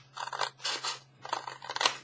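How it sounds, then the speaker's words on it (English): Small fussy-cut scissors snip through thin Amazon packaging in three short bursts of crisp, close cuts separated by brief pauses, quiet and with no talking over them. "I'm just using my little fussy cut scissors because it's pretty tiny."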